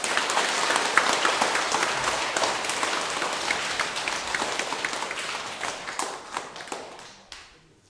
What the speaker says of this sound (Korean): 이럴 때는 박수 치는 거야.